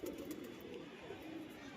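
Pigeon, a stray bird that landed on a rooftop, softly cooing in a steady low murmur near the listener, with no talking.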